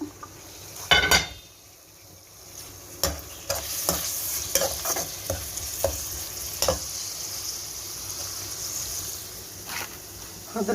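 Chicken kebabs sizzle in a frying pan, with a steady hiss of hot oil broken by scraping, clattering stirs and a few louder knocks from utensils against the pan.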